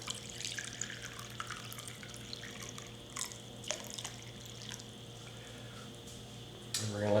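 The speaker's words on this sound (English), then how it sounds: "So we're pouring the water in." Hot water at 50°C poured into a container to soak protea seeds, a steady low trickling stream with occasional drips and small clinks, heard close and alone.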